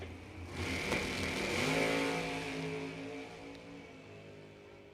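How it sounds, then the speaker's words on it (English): A 2015 Miller dragster at a bracket drag race, its engine note swelling loud then easing off as it moves down the strip, with no talk over it. "The Maryland 2015 Miller Dragster."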